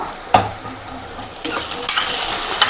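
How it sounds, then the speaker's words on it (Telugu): Prawn and okra curry is stirred in a pan with several sharp scraping strokes over a continuous sizzle, close and fairly loud, with no voices. "ఇప్పుడు ఒకసారి అయితే కలిపేసుకుందాము"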